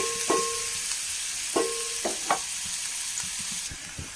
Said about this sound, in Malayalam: അപ്പോൾ നമ്മുടെ സവോളയ്ക്ക് ഒരുവിധം നന്നായി മൂത്ത് വന്നിട്ടുണ്ട്